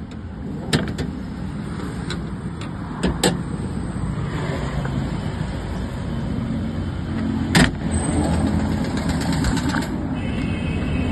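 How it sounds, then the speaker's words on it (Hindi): A truck engine runs on in a steady, rough drone throughout, with sharp clicks and knocks scattered over it, as a mining vehicle is attacked with a bulldozer in Loni, Ghaziabad, its wiring burned and smoke pouring out. "गाड़ी स्टार्ट हो रही है, खराब हो रही है"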